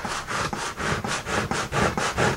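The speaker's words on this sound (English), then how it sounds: "take your scraper, and as long as you let it set long enough, you can just go along and scrape all of that gunk up" A scraper drags across a sticky Cricut cutting mat, lifting softened adhesive gunk in a steady run of about eight rhythmic rasping strokes, close and fairly loud with no talk.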